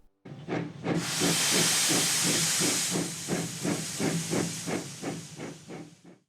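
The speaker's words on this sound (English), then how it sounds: "Here's Percy puffing through the countryside." A steam locomotive puffs along at a steady rhythm, with regular chuffing beats under a loud hiss of steam that fades after a few seconds, close and clear with no talking.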